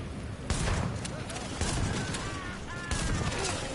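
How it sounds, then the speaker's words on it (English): Shotgun blasts from the video game The Division ring out in a dense, loud stream of sharp bursts, mixed with game noise and players talking over it. "This shotgun recoil is pretty"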